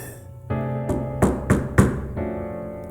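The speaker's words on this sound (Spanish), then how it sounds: "escuché un golpe en la puerta principal" Several hollow knocks on a front door, a few spaced thuds in loose rhythm, heard indoors over a steady low hum of background sound.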